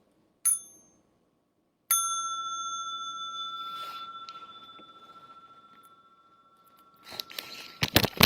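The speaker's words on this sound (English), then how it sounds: "I'll invite the small bell again for stretching and massage." A small meditation bell gives a short first strike, then a second clear ring with a long sustained tone that fades slowly in a quiet room, followed by some soft rustling at the end.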